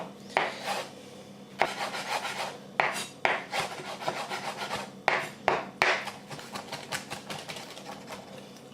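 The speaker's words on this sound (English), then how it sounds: "I'm just going to really finely chop that as well" A knife finely chopping fresh herbs for beef burgers, heard as bursts of quick rhythmic scraping and tapping on a board, close and fairly loud, with short pauses between runs.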